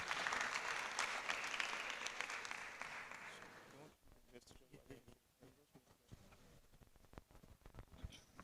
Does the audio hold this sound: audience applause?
yes